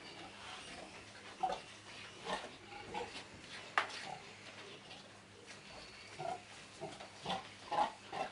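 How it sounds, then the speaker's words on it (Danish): Weaned piglets about five weeks old in a pen on a pig farm, giving faint scattered grunts and short squeals over a quiet background hum, some close and some farther off. "Grisene fravendes ved en alder på 5 uger."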